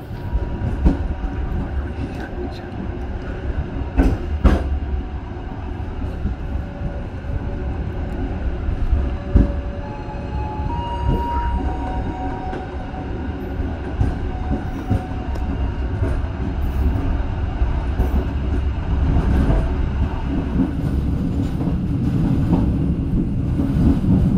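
Sancaka Utara passenger train under way past Gundih, a continuous rumbling roar of the moving carriages heard from inside, with occasional rattles and clunks over the rails.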